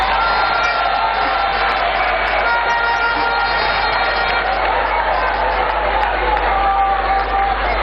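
Audience clapping and cheering after a speech by a woman professor, a loud, continuous roar of crowd noise with applause blended in, heavy and unbroken and slightly distorted, with no clear individual claps.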